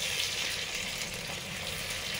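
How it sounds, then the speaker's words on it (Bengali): Peeled boiled eggs lightly frying in a pan after potatoes, a steady, even close sizzle with no pauses or voices. "ডিমগুলো হালকা ভেজে নেব।"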